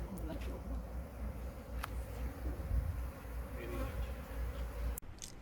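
A dense, steady buzzing of many bees swarming close by during a bee extraction, low and continuous, with a brief knock near the end.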